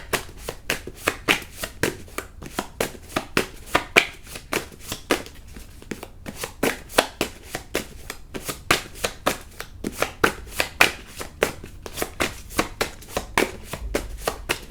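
A deck of tarot-style cards being shuffled by hand in a quiet room, giving steady rapid riffling bursts of dry papery slaps, close and fairly loud, with no talking.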